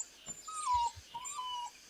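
A puppy gives two thin, high whimpers close by, with a few soft thumps in between and quiet surroundings.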